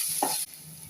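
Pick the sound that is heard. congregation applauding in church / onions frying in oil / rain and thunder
onions frying in oil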